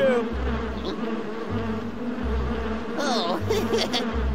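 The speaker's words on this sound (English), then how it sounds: "Our bee friends are circling around Logger Vick!" Cartoon bees buzz steadily and loudly as they circle around a logger, a continuous droning hum that rises and falls slightly, with a brief squeaky vocal sound near the end.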